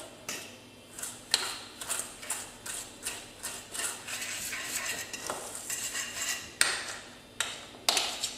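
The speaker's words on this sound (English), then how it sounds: "continue creaming the shortening with the sugar until it's all mixed" Shortening and sugar being creamed together in a mixing bowl for gluten- and dairy-free oatmeal raisin cookies: a steady run of rhythmic scraping strokes, close and fairly quiet, with no talking.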